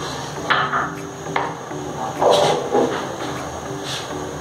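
Curdling milk stirred in a pot while making paneer for rasmalai, heard as soft scraping and occasional light knocks of a utensil against the pot at close range, with no talk.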